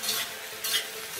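Chinese lo mein being stirred in a pan, two quick scraping sweeps over a soft sizzle, close up.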